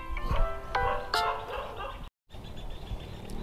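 A dog yips and barks a few times in the first two seconds beside a pop-up camouflage spring tent, with people talking nearby and a brief gap before steady background noise continues.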